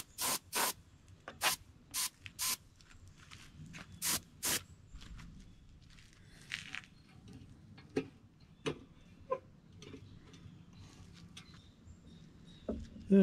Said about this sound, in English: Then I'm going to come back with my dark color and give it just a little mist along the back.